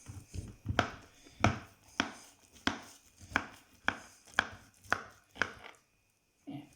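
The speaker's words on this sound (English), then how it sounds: "Just cut down the middle." A knife cuts down through a baked homemade lasagna in about nine sharp, evenly spaced cuts, each striking crisply against the dish beneath, close and clear with a short silence near the end.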